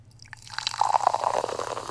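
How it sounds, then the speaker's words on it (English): A drink from a can is poured into a glass close by, a rising fizzy trickle of liquid that grows steadily louder, with no talking. "I'll do the pour."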